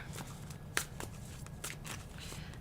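Tarot cards shuffled by hand during a reading, a quiet run of soft riffling flicks and papery slaps in an irregular rhythm, close and alone.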